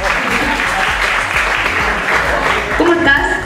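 An audience applauds for the representative of Canada at an international competition presentation, a dense steady clapping that carries on throughout while a presenter speaks over it.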